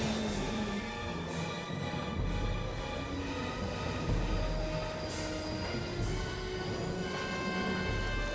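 A fast-running train in the video game Syberia II: a continuous loud rumble of wheels on rails with sustained metallic squealing tones and occasional sharp clanks, steady and close throughout.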